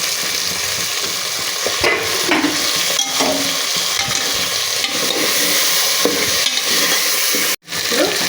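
Tomatoes frying in a pan for vegetable biryani are stirred, a loud continuous sizzle with scraping and clinking of the spoon throughout, cut by a brief silence near the end.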